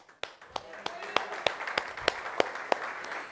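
A crowd applauds with sharp, evenly spaced hand claps in a steady rhythm, about three per second, over a low murmur of background sound.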